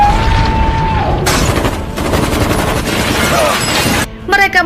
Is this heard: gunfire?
yes